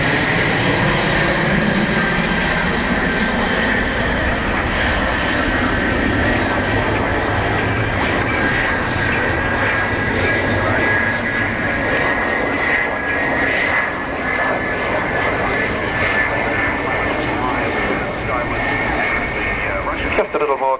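Aircraft engines roar at full throttle during an air show at Matamata Airfield, a loud continuous drone with a rising tonal whine that stays close and steady throughout.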